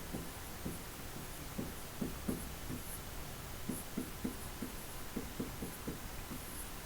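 Notes are written out during a lesson, with quiet, rhythmic pen strokes scratching in short bursts over a faint background hiss and no talk.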